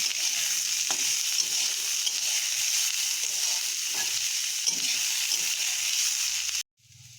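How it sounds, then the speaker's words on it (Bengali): Steady, loud oil sizzle of onions frying, with occasional scraping stirs, continuing without pause before stopping abruptly near the end. "পেঁয়াজগুলো এবার আমরা লাল লাল করে ভেজে নেব"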